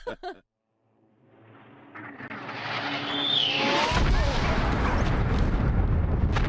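Bombs falling and exploding in the World War I game Valiant Hearts: Coming Home, a rising whistling descent that swells into a loud, sustained roaring blast, after a short voice at the start.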